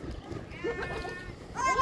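Fat-tailed sheep and goats at a livestock market in the UAE bleat in a couple of wavering calls, one mid-clip and another near the end, over someone talking and crowd background noise.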